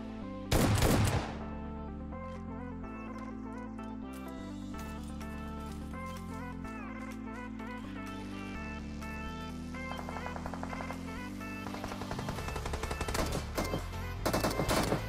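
Rapid automatic gunfire in the mobile battle royale game PUBG Mobile, a loud burst near the start, then sustained game audio with more clustered shots toward the end, no talking.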